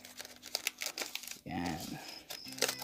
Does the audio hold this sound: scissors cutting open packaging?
yes